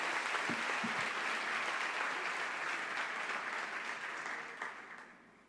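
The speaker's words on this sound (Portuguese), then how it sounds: "Você consegue aplaudir ao Senhor pela sua palavra?" A church congregation applauds steadily, dense clapping that holds strong for a few seconds before gradually fading out.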